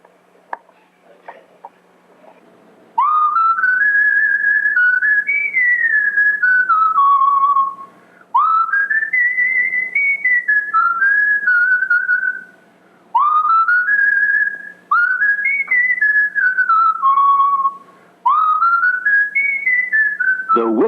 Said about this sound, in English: I give them what I call my double whistle.